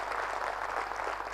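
An audience applauding at a live talk, a dense, even patter of many hands clapping that carries steadily throughout, with a low hum underneath.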